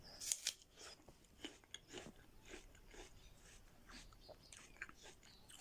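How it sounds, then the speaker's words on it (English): Crunchy bites and moist chewing of an apple close to the microphone, with a few sharp crunches early on and then softer, irregular chewing sounds at low volume. "I'm chewing an apple right now"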